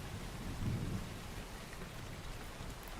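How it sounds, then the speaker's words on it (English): Steady rain falls outside at a moderate distance, a dense unbroken wash, while a low rumble of thunder swells briefly near the start and fades back under the rain. "Yeah, I know it's raining outside, so what?"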